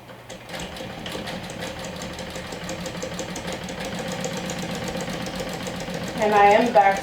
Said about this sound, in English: And I am back stitching